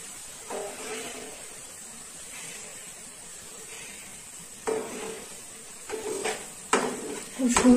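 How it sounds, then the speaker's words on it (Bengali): Masala with Kashmiri chilli powder sizzles softly in a pan over low heat while being stirred, faint hissing under occasional scraping and clinks of the spoon against the pan, growing louder toward the end. "এবার এটাকে খুব ভালো করে কষিয়ে নিতে হবে"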